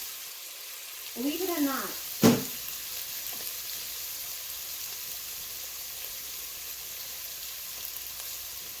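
Onions and raisins frying in a pan give a steady, soft sizzle throughout, joined by a brief rising chirp and a sharp clatter early on, with a short spoken remark over it.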